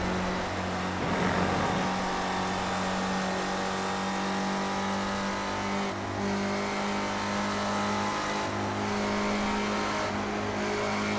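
Spec Racer Ford race cars roar around Watkins Glen during a race, with a loud, sustained engine drone and layered revving from several cars. There are brief dips where gears shift, and the noise stays continuous throughout.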